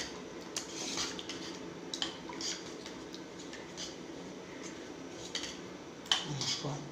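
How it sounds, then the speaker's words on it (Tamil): A ladle scrapes and knocks against a metal pot while cooked lentils are mashed for a Tamil home lunch, giving soft repeated clinks and squishy stirring with a sharper clatter near the end, no voices. "இந்த பருப்பை இந்த கரண்டியை வச்சு கொஞ்சம் கடைஞ்சி வச்சுக்கலாம்."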